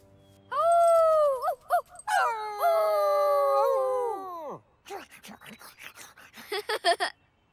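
A scared cartoon dog in a children's animated show lets out long, loud, wavering howling whines, then a run of short, broken whimpers, close and clear with quiet gaps between them.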